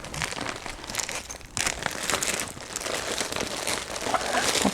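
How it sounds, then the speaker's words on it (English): A plastic bag crinkles and rustles loudly up close as it is handled and opened, a continuous crackling with a brief lull partway through. "It comes with this nice plastic bag."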